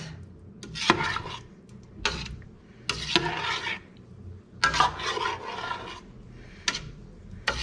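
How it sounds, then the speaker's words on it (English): Tomato paste being stirred into tomato sauce in a pot, with a few scraping, clinking strokes of a utensil against the pan at irregular intervals, close and moderately loud. "now we're going to mix all the paste into the sauce"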